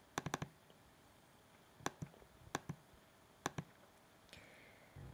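Crisp computer mouse clicks while drawing shapes in Adobe Illustrator, coming in quick doubles and triples with short pauses between groups, close and fairly quiet, with no talking.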